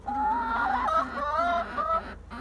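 Young laying hens cluck continuously up close, a busy chorus of overlapping calls with short rising and falling notes, no talking.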